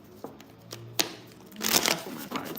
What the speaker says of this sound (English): Shuffle my cards really good.